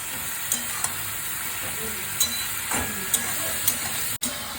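Leafy greens fry in a pan on a home stove, giving a steady close sizzle and hiss, broken by a few soft clicks and scrapes from stirring.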